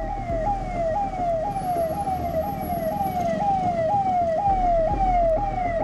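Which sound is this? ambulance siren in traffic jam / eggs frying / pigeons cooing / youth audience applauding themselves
ambulance siren in traffic jam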